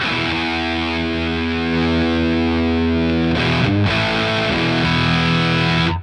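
Electric guitar through a Greer Amps Gorilla Warfare MK2 distortion pedal holds a sustained, buzzing chord, then shifts to a new chord and rings on, loud and saturated.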